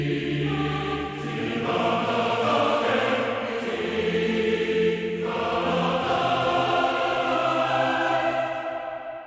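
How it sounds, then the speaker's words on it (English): Layered, doubled men's and women's choir for orchestral indie game music, singing more forcefully with dense sustained chords that shift every couple of seconds, loud and continuous throughout. "I kept that choir and I doubled it with the same choir, but now they're singing more energetically with more force"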